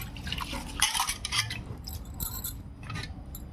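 Rice being washed in water in a pot for mint rice, producing close, irregular sloshing and wet splashes with light metallic knocks of the vessel, and no voices.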